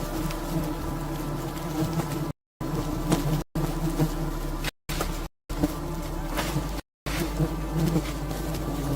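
Bees swarm around a massive wild honey hive hanging below a tree branch, producing a dense, continuous close-up buzzing drone broken by a few brief silent gaps.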